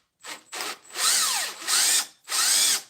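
A drill fitted with a Forstner bit bores a hole into wood in four close bursts, the last three long and loud with the pitch sweeping as the bit bites, with brief pauses between them and no talking.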